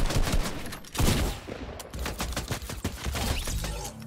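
Rapid gunfire in a building-and-shooting video game, a dense burst of sharp cracking shots, loud and close, with short pauses between volleys.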